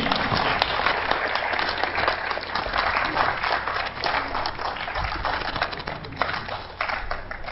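A large audience at a village stage drama performance claps loudly and continuously, a dense steady roar of applause throughout with no pauses.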